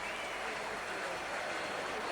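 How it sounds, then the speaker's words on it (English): A stadium crowd applauds and roars at a rugby league premiership final, a steady, distant wash of clapping and cheering that holds at an even level throughout. "roar of applause there"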